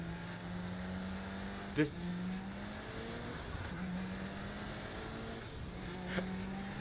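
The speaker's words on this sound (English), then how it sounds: "Why does the car sound like it's going like 100 miles per hour and I'm not even driving?" A car engine in Saints Row The Third drones with a steady tone that repeatedly rises in pitch like gear-shifting revs, under a player's voice speaking briefly.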